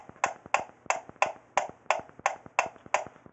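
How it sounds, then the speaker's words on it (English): Metronome ticking at a fast presto tempo, about nine crisp evenly spaced clicks, close and clear with nothing else heard. "beats per minute by a metronome like this"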